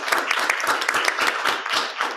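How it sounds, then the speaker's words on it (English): An audience applauds the speakers at the close of a talk on the future of work and digital technology: brisk, fairly close clapping with an uneven rhythm and individual claps standing out, continuing for the whole stretch. "a big round of applause for our speakers who did an amazing job for the presentation and answering the questions"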